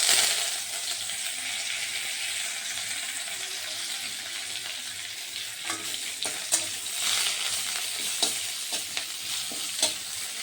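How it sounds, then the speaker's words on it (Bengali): Curry leaves crackle and sizzle as they drop into hot oil with fried chillies, a steady frying hiss punctuated by sharp spattering pops that grow more frequent toward the end, close and clear with no talking. "লঙ্কা ভাজা হয়ে গেছে, আমি এখন দিয়ে দিচ্ছি কারি পাতা।"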